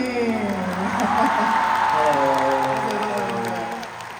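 Concert audience at a live show clapping for a guest singer, a broad steady roar of applause with voices speaking over it, fading toward the end.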